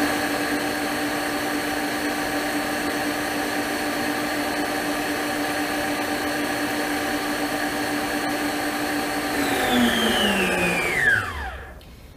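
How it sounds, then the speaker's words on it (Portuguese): An electric mixer beating egg whites with sugar hums steadily and close for several seconds, then its motor pitch slides down and cuts out as it is switched off. "Eu vou ligar a batedeira e vou acrescentando o açúcar aos poucos também."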